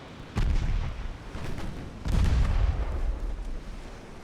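Seven-inch naval guns fire broadsides in the warship game Ultimate Admiral Dreadnoughts, with two heavy booming salvos that roll on into a dense rumble and keep going throughout.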